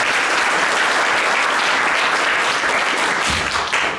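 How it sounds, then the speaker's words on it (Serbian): A concert audience at a Christmas and New Year wind orchestra performance breaks into loud, sustained applause, a thick wash of many hands clapping evenly throughout. "dajmo joj jedan drugi aplauz za nje"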